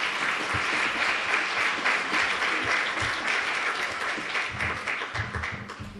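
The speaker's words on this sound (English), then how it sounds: "Come on, clap your hands one more time." A congregation at a homegoing funeral service claps hands in sustained, dense applause, steady and fairly loud throughout, with a few low thumps and murmurs beneath.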